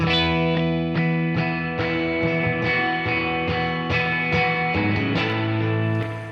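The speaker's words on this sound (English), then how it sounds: "you adjust the mix knob to determine how much reverb is there, like this." Sustained electric guitar chords ring out with a washy, lingering reverb tail, played steadily and loud without any voices.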